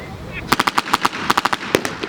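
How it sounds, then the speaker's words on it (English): Rapid bursts of blank-fired gunfire crack out at a military vehicle show battle reenactment in an outdoor arena, about a dozen sharp reports in quick irregular volleys, fairly loud and close, over a low crowd murmur. "Plenty of shots being fired to repel the forces there"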